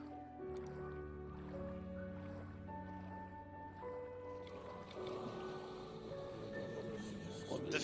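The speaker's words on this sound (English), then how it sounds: "The fish jumping out of the ocean initiated the Polynesian spa sound effect" A calm Polynesian spa-style sound effect plays in a video game as a fish jumps out of the ocean: soft, sustained chime-like tones overlapping gently at low volume, with faint drip-like watery touches.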